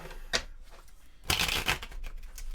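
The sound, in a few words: shuffling a deck of board game cards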